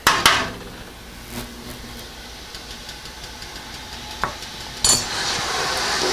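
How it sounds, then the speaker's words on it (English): Homebrew English porter wort is stirred in a pot on the heat, a low continuous bubbling hiss with a few sharp knocks of the spoon against the pot, close by and with no talk. "Stir that around."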